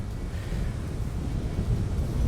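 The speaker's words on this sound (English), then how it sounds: "It's very windy, as you can probably make out." Strong wind by the ocean at Port Augusta, a constant loud low rumble of gusts buffeting the microphone, alone without voices.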